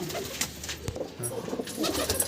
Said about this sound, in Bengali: আমি ধরে ধরে দেখাবো যেগুলো বেস্ট বেস্ট কোয়ালিটি পায়রা আছে